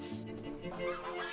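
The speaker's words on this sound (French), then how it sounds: "Ici, ce sont les canards et les oies" Decoy ducks and geese kept by waterfowl hunters give a short, dense burst of quacking and honking calls from several birds close by, with a faint voice in the background.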